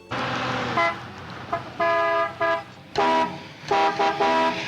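A car horn honks in a series of short and longer blasts, loud and close, with brief pauses between.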